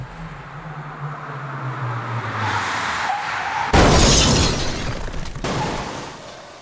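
A car slides and crashes inside a tunnel: a building skid and rumble gives way to a sudden loud burst of smashing, shattering impact noise that rings out and slowly fades under the tunnel's echo.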